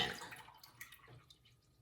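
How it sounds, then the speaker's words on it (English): Water pours and splashes into a bowl of dried chickpeas with a little baking soda, a soft trickling wash that is strongest at the start and fades into faint drips over a couple of seconds. "we're going to put about 4 cups of water in here to soak them"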